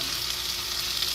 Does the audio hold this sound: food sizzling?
yes